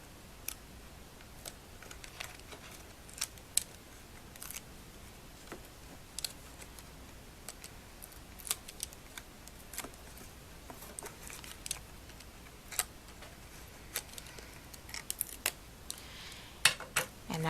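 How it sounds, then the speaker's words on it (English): Adhesive tape having its backing cover peeled away while a July 4th bubble gift box is assembled: quiet, sparse crackly ticks and small snaps scattered through a soft background, with no talking. "now I can just pull away the tape here"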